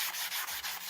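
Sandpaper rubbed back and forth on a rusty, pitted vintage motocross axle, with about five to six quick, loud abrasive strokes in steady rhythm, close up and alone.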